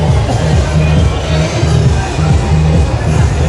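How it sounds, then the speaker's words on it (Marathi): Dense street crowd on R.P. Road during the Ganpati festival, a constant loud wash of chatter and bustle with a rhythmic low drumbeat pulsing through it; a voice speaks nearby. "इतकी गर्दी आहे या रोडला"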